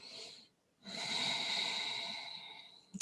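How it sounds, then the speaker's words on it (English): Deep yoga breathing: a slow airy inhale or exhale, a short pause, then a long steady breath with a hissy rasp, close and fairly soft, ending on a brief sharp sniff. "let's take 5 breaths here, deep inhales and exhales."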